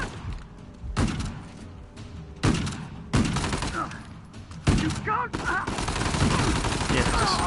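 Loud automatic gunfire in the action game Uncharted: The Lost Legacy, arriving in several sharp, heavy bursts separated by short pauses, with a voice faintly underneath.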